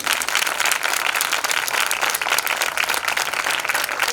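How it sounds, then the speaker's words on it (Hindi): A church congregation claps loudly and continuously, a dense, energetic patter of many hands that fills the whole few seconds with a slightly pulsing rhythm. "यीशु के लिए जोर से ताली बजाइए।"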